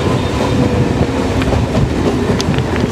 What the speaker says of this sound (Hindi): मैं एक ट्रेन आ रहा, मैं दिखाता हूँ आप लोग लोकल सियालदा जाने वाली ट्रेन।